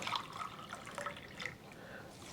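Water pours and trickles faintly into a pot of rice, a soft, uneven liquid splashing in a quiet kitchen that ends with a short, sharp knock.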